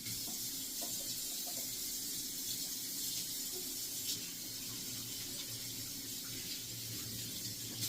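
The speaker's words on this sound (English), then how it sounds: "I'm gonna wash my hands real quick and grab a spoon." Water runs steadily from a kitchen sink tap while hands are washed, making a continuous, even hiss with faint splashing that stays close and unbroken throughout.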